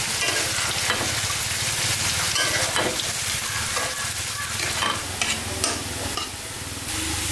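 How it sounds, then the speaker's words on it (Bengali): Banana stem curry vegetables cooking in a pan, with a steady close sizzle and frying crackle under repeated scraping stirs of a spoon, continuous throughout with no talk. "এদিকে সবজি রান্না হচ্ছে"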